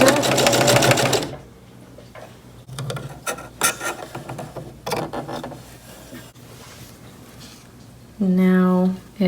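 A sewing machine reverse stitches fabric in short bursts of rapid mechanical whirring, loud at the start and again near the end, with handling clatter and soft rustling in between.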